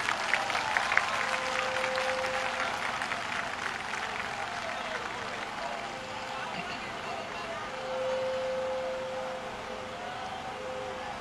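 A crowd at a political rally applauds in a long, broad wash of clapping and cheering that holds steady for several seconds, with a faint thin tone sounding intermittently above it.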